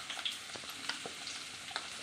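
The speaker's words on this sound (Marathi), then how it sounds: "आपली भेंडी थोडीफार भाजत आलेली आहे।" Okra sizzling and roasting in a pan with spices, a steady crackling fry broken by soft stirring scrapes and light clicks, close and fairly quiet with no talk.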